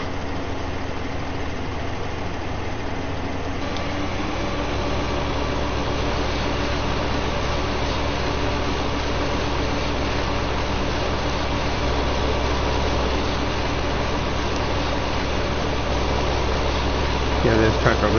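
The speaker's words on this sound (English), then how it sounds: "this green tractor is a little more oomph" A green tractor in Farming Simulator 15 runs with a steady, low engine drone that holds at a constant level throughout, with no talking over it.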